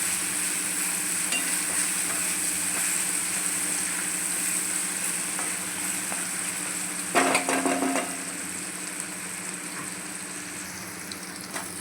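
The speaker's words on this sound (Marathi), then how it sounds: "आता आपण याला चांगलं शिजवून घ्यायचं कांद्याला." Chopped onions sizzle steadily in a pan with salt added, a continuous soft crackle broken by a brief burst of stirring scrapes near the end.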